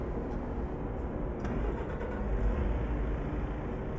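A heavy truck engine turns over and settles into a steady idle in the Euro Truck Simulator 2 driving game, a dense, even rumble that runs loud and unbroken throughout, with no voices.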